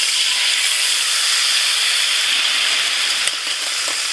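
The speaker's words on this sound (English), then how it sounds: "we're going to deglaze our pan with a bit of red wine" A hot pan being deglazed with red wine while cooking lamb rump gives a loud, steady steamy hiss and sizzle that holds throughout, easing slightly toward the end.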